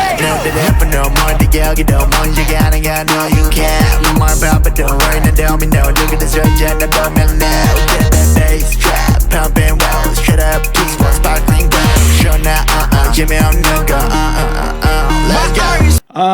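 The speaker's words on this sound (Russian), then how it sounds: "Здесь очень прикольно использован вокодер." A dense, loud K-pop track with thumping beats throughout and heavily processed, robotic-sounding vocoder vocals riding over the mix.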